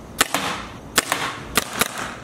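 Four quick sharp pops from a gun fired at a fence in a prank setting, spaced unevenly over about two seconds, close and fairly loud with no talking.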